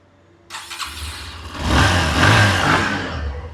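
A 2025 Bajaj Platina 110 motorcycle engine cranks and fires up, then settles into a rising, rumbling idle that grows louder and steadier.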